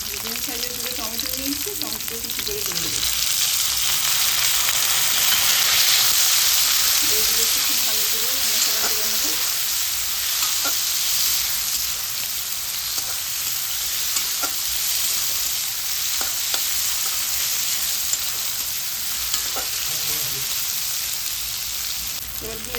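Chopped capsicum and tomato fry in a hot pan for stuffed bitter gourd, a loud continuous sizzle with repeated spatula stirs and clinks close by, while a voice talks over it at intervals.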